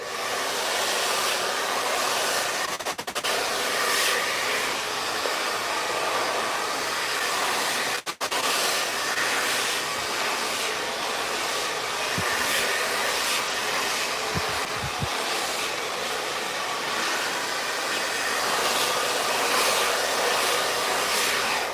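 A hair dryer roars steadily and close while blow drying hair, a continuous loud whoosh with a few brief dips, and no talking.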